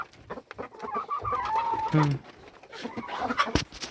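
Hens cluck and coo in short bursts close by, with a person talking over them.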